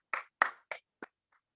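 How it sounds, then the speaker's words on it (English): A few scattered hand claps at a school debate between Belair and Dinthill Technical, four sharp separate claps spaced about a third of a second apart, then a faint fifth, thin rather than a full audience round. "Let's have a round of applause."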